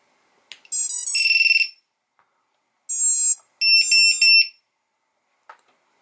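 Loud, shrill electronic beeping from a VIFLY Finder lost-drone alarm in a few separate bursts with short gaps between them, followed by faint clicks and then quiet.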